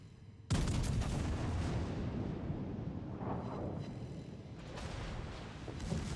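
A tank's main gun fires in a PlayStation 4 video game: one sudden, loud blast that rolls into a sustained, rumbling roar lasting several seconds, with no talking.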